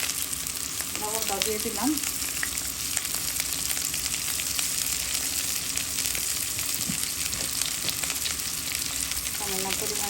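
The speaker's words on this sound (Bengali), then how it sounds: "ভাজির জন্য পেঁয়াজ দিয়ে দিলাম।" Onions frying in oil for a bitter gourd bhaji, a loud, constant close-up sizzle throughout, with a brief spoken line near the start and a few faint utensil clinks.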